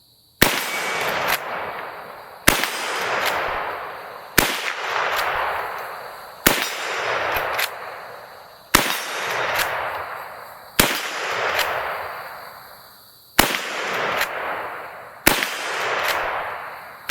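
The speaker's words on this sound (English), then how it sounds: "We'll shoot some rounds at the steel" Winchester 94 lever-action rifle fired at steel targets: eight sharp, loud shots spaced about two seconds apart, each cracking and followed by a ringing metallic clang and a fading echo.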